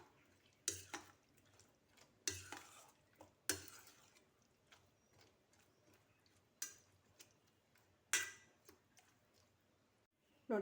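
Spoon stirring raita with fresh mint and coriander in a bowl, giving scattered clinks and taps against the bowl between soft scraping, close and fairly quiet.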